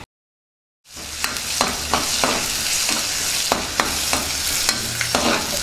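After a brief silence, a tempering of fenugreek, cumin, chana dal and dried red chillies sizzles steadily in oil up close while a spoon scrapes and stirs the pan now and then, with sharp crackles popping through.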